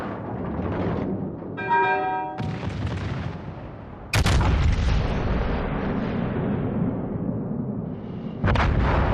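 Warship guns fire in the World of Warships Legends video game, heavy booming blasts with long rumbling decays, one big salvo midway and another near the end, over a steady engine-like hum.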